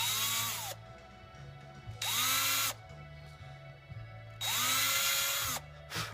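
A power drill whirs in bursts, spinning up and winding down several times, with a lower motor hum between runs, drilling shallow holes for Graphtech Ratio tuning machines.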